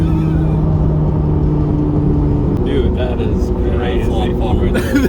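Chevrolet C8 Corvette Z06 with carbon fiber package accelerating hard, a loud engine drone with a rising tone cutting in midway, heard from inside the cabin as people talk over it.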